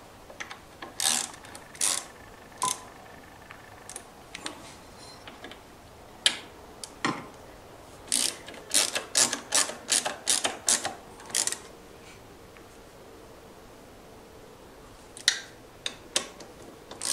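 A ratchet tightens ignition screws into a Nitro/Aerox/Ovetto scooter engine casing, giving bursts of quick clicking strokes with short pauses between them, close and fairly quiet, with no talking.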